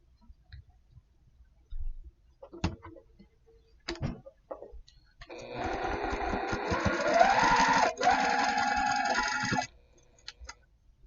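A sewing machine stitches over a fabric seam on a quilting project, a steady mechanical whirring run of about four seconds preceded by a few separate clicks and knocks as the fabric is positioned.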